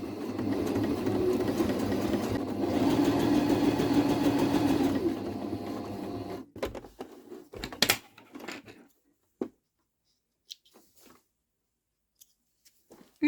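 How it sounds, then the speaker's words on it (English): A sewing machine runs a steady straight stitch around the edges of a replacement bag handle for about six seconds, then stops, followed by scattered faint handling clicks and near silence. "we just carefully sew all the way around all of the edges with a straight stitch, just a few millimeters in from the edge"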